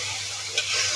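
Taro stolons and shrimp stirred in a hot pan, a steady close sizzle of frying with a brief scrape of the spoon midway.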